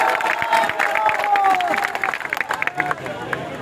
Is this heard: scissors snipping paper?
no